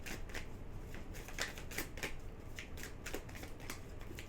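Tarot cards being shuffled and drawn, a series of soft, close riffling flicks and slaps in an uneven rhythm, quiet and without talk.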